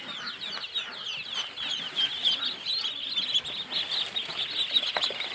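Yi Liang breeding ducks crowd in for their morning feed, a busy flock giving off dense, continuous calling and chatter that stays fairly close and steady throughout.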